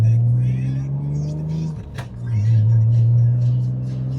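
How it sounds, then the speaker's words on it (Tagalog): A Mitsubishi fitted with a Kakimoto exhaust revs steadily with a deep, droning note, dipping once midway before returning at full strength, close and loud. "Pakin tunog no yung Kakimoto. Ganda ng exhaust."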